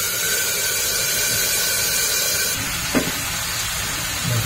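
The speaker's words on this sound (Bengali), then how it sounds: "এখন আমি দিয়ে দিচ্ছি তার মধ্যে এই যে তোমার মশলাটা" Spice paste hits hot oil in a pan for a Bengali fish curry, giving a loud, steady hiss of sizzling close up that holds for several seconds with a brief clatter near the end and no voices.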